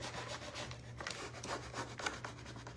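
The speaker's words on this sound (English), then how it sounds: "I'm just gonna start rubbing" Repeated rubbing strokes work a stencil transfer onto a resin sea turtle tray, a dry, close scratching sound in steady back-and-forth swipes with no talking.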